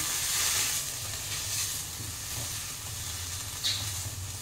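Spice paste for bhetki khichuri sautéed in a wok, a steady close sizzle and hiss with faint stirring scrapes and a short brighter burst toward the end.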